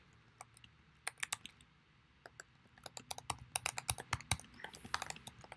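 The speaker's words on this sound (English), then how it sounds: "if you just type in what the question is going to be" Keystrokes on a computer keyboard as a survey question is typed, coming in irregular quiet bursts of clicks that grow busier toward the end, with no talking.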